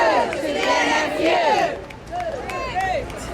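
A rally crowd boos the NFU together in long, loud, wavering group shouts that fade into scattered voices before the next swell. Nothing else is heard.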